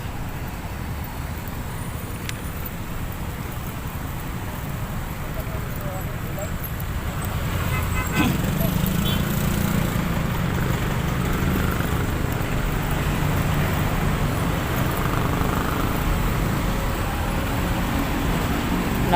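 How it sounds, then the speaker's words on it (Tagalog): Heavy, continuous road traffic along a busy street near the Manila Bay reclamation area, a steady dense roar of passing vehicles that swells slightly louder midway and stays close throughout. "yan napaka traffic mga guys"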